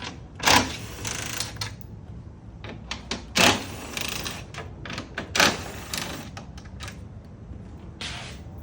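A ratchet socket wrench backs out 10 mm bolts from the grille of a 2023+ Ford Super Duty F250/F350, giving close, intermittent bursts of sharp clicking with short pauses between them and no talking.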